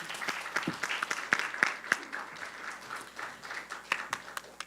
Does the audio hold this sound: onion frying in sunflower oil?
no